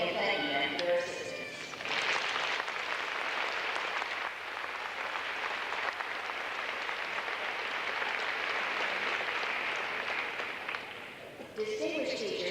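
Sustained audience applause fills a university commencement ceremony, a dense crowd clapping for about ten seconds, with a speaker's voice briefly heard at the start and end.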